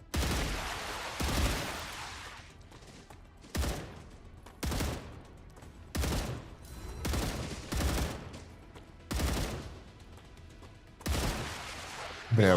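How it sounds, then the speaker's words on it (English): Rifle gunfire in a video game sounds as sharp, loud bursts repeated at irregular intervals, about ten shots or short volleys separated by quieter stretches, with no speech over them. "Probably it's time to use the rifle."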